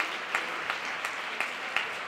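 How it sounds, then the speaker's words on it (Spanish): An audience at a closing session of a queer municipalism conference gives steady applause, a dense patter of many hands with sharper claps standing out at intervals. "un aplaudiment a les folklòriques culpables d'aquest acte"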